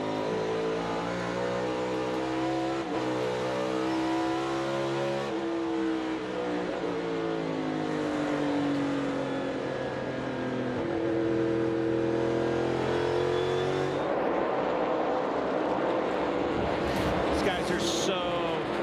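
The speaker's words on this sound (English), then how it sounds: "You hear him just so soft on that throttle pedal, getting onto the gas" NASCAR Cup Series race car engine at Richmond easing onto the throttle through a long corner, a loud steady drone of rising and falling harmonics that climbs as the driver gets on the gas.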